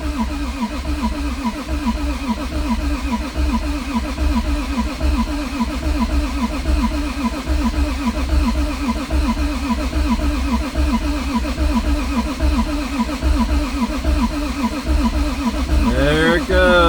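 Toyota Supra, a 1200-horsepower build, cranking over with the fuel pump fuse removed, the starter churning in a loud continuous rhythmic whir close by for the whole stretch without catching.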